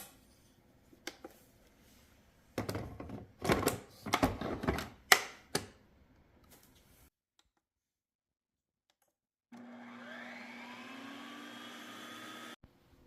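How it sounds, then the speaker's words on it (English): A Ninja Swirl creamifier churns frozen chai protein into soft serve, starting with loud rattling clatters and followed by a steady motor whir that ends abruptly after a silent pause. "So into the creamifier it goes."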